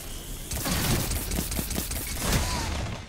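Rapid bursts of pulse rifle fire in a first-person shooter game, loud and dense, with repeated sharp shots running throughout a short sustained volley.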